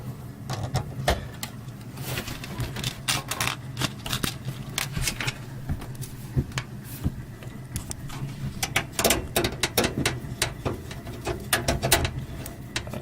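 Metal screws driven into a PC case during a budget computer build: close, irregular small clicks, ticks and scraping of the screwdriver and hardware, steady handling noise throughout, with no talk.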